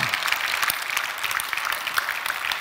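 Church congregation applauding during a Wednesday service sermon, a steady even patter of many hands clapping at moderate volume from across the room.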